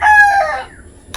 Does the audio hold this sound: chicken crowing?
yes